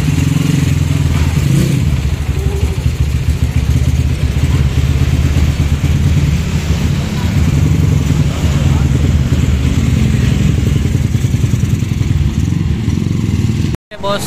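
A Honda Tiger motorcycle engine runs steadily and loud, close by, on a test ride after a clutch spring replacement, with a dense low rumble throughout and a brief cut near the end.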